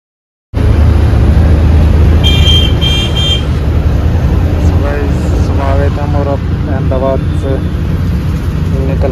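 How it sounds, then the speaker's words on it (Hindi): A loud bus horn sounds a few short honks amid engine rumble and traffic noise, with people talking nearby. "बस ने हॉर्न दे दिया"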